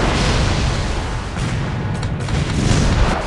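Naval mine detonation sinking an enemy ship in a German U-IXB submarine game, a dense, loud, continuous rumbling roar with deep low end throughout, no speech.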